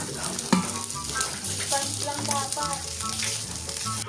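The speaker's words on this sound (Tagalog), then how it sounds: "Mag-iihaw naman ako ng karne." Meat sizzles in a non-stick grill pan, a close, steady crackle and hiss with occasional sharper pops. A voice speaks faintly underneath.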